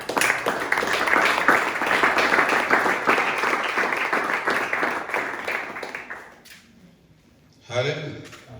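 A church congregation claps and cheers in acclaim of Jesus, a dense sustained wave of applause that fades out near the end before a voice speaks.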